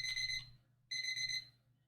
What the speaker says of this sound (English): there went the alarm